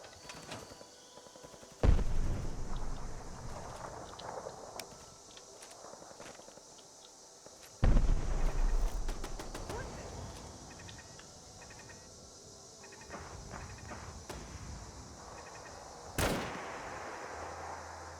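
Rifle fire from an M1 Garand in Fallout 4, with two loud sharp shots a few seconds apart, each trailing into a rolling echo, followed by a fainter crack near the end over quiet ambient game noise.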